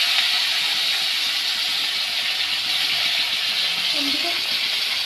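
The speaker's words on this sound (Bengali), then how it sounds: "লঙ্কা, লঙ্কা একটুখানি ফাটবে" Green chillies fry in hot oil in a home kitchen, making a continuous, close sizzling hiss that holds steady throughout with little variation.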